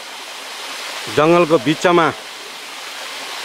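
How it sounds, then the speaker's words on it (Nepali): A jungle waterfall near a temple rushes as a constant, even hiss of falling water, while a voice speaks briefly over it in the middle. "यही साइडबाट कलकल कलकल कल झर्ना हामीहरूलाई 24 घन्टा एकदम शान्त"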